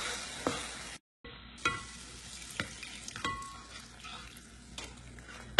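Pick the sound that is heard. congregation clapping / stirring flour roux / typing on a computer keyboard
stirring flour roux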